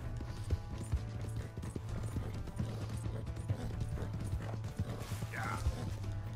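Horse hooves clip-clopping in Red Dead Redemption 2, a steady rhythmic trot of close hoofbeats with faint mechanical clicks and a brief whinny-like sound near the end.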